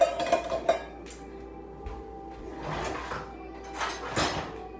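Spoon clinking and scraping against a cup while lavender-flavored collagen powder is stirred into a coffee drink, several quiet separate bursts with pauses between.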